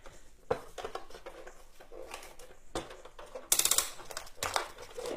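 Paper feeding through a Xyron sticker maker while Halloween decorations are made, a close scraping and clicking run with a brief sharper rattle burst near the middle.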